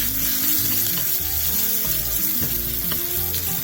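Onions fry in hot oil in a pan, a loud, continuous close sizzle with crackling spatter and a few faint stirring knocks.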